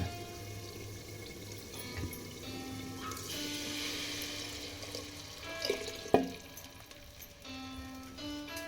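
Water poured into a cooking pot in a home kitchen, a continuous splashing, gurgling flow that rises in pitch as the pot fills, ending with a clunk.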